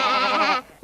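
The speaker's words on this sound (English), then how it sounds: "And those are sheep." A sheep bleats once in a long, wavering, quavering cry that lasts just over half a second, then stops abruptly. It is loud and close, with no talking over it.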